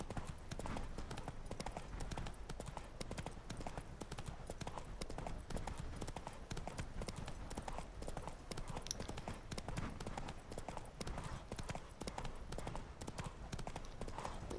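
Geralt's horse Roach trots in the Witcher 3 video game: quiet, steady clip-clop of hooves repeating rapidly and evenly throughout, distant and soft, with faint ambience.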